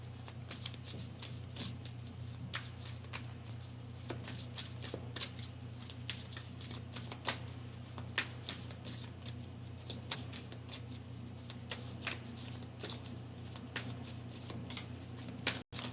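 Tarot cards are shuffled and drawn by hand in a steady stream of soft riffling flicks and sharp slaps, close and fairly quiet, over a constant low hum with no talking.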